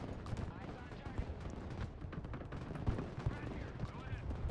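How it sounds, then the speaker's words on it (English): Grenade launchers firing in the real-time tactics game Broken Arrow, a dense distant rumble of repeated thuds and blasts in a zombie defence battle, with a voice speaking over it. "Grenade launchers now in combat."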